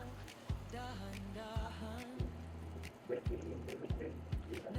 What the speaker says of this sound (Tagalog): lalagyan na natin siya ng tubig